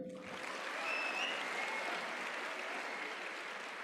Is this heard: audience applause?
yes